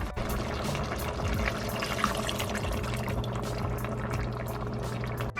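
Water poured into a pot of goulash with macaroni makes a steady, bubbling liquid rush that runs unbroken for several seconds at close range.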